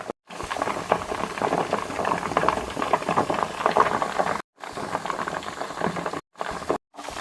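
Leftover cooking oil heating in a pan as added water boils off, giving a steady dense crackle and sputter of bursting bubbles, loud and close, with brief silent gaps between stretches.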